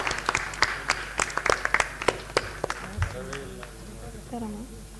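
Applause at a regional workshop on biomass co-firing in thermal power plants, scattered claps in uneven bursts with a voice speaking over them partway through.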